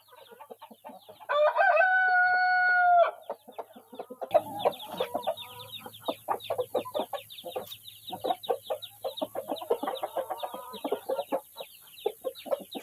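Chickens cluck busily in a coop while a rooster gives one loud, drawn-out crow early on, followed by dense, close clucking and squawking throughout.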